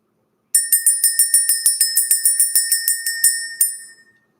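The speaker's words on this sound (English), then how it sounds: "Let's ring the bell." A bright bell struck about fifteen times in a quick, even rhythm, each ring close and loud with a short ringing tail, then a last couple of strikes fading out.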